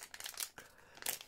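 A plastic candy bag being opened crinkles in a few quick, faint bursts, close and soft, with no talk over it.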